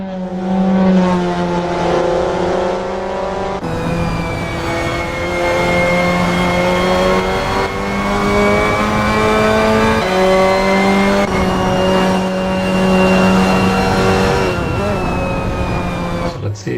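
Several Mazda MX5 Cup race cars in a sim racing game roar past on the Highlands Short circuit, steady engine drone with rising and falling pitch as cars come through, loud and continuous with a voice talking over it.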